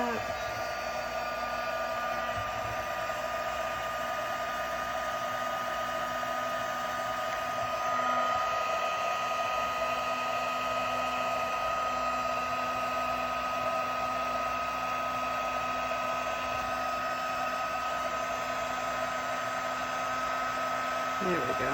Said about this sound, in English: you want to move this before you start blasting air out of your heat gun